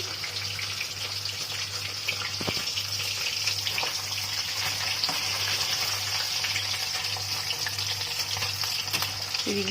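Fish fries in hot oil with a steady sizzle that crackles throughout, close and continuous, with a low constant hum underneath and occasional faint clatters.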